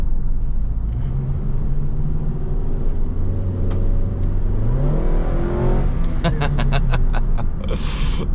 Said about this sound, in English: it's the sound of an engine revving out.